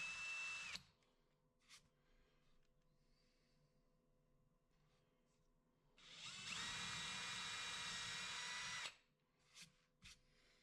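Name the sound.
screw gun screwing mounting block to baseboard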